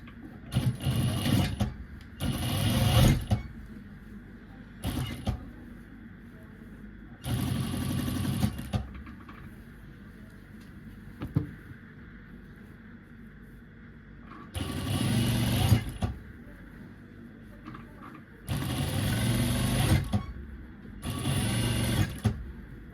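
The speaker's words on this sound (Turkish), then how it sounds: "pervazıma üst makinayı Çekiyorum bakın" A sewing machine topstitches the facing of a square-neck dress neckline in repeated short runs of whirring stitching, separated by quiet pauses, close and steady, with no talk.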